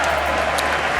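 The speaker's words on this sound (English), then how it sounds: "More applause as Speaker Hastert presents the President of the United States." A large chamber audience of members of Congress applauds the President of the United States, a dense, steady wash of clapping that stays loud and continuous throughout.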